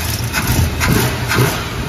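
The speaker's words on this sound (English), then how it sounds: "We have 8 happy cylinders, and it's even time now." A V8 engine idles loud and close with its firing order corrected, a rough, even low rumble with rhythmic pulses across the whole stretch.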